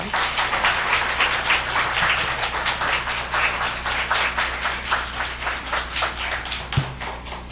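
A church congregation applauds together, a dense, steady wash of many hands clapping throughout, loud and sustained with no talk over it.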